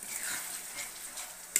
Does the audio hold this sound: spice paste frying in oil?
yes